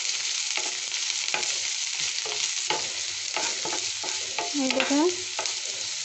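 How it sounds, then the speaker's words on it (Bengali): Long-cut chopped onions fry in a pan for spicy masala Maggi, a steady close sizzle broken by scraping stirs and spatula clicks, with a brief spoken remark near the start. "পেঁয়াজ কুচিগুলো আমি ভালোভাবে ভেজে নিচ্ছি।"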